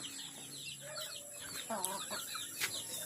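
Chickens cluck softly in a steady outdoor farm background before dark, with a few sharper calls standing out over the low murmur of the yard.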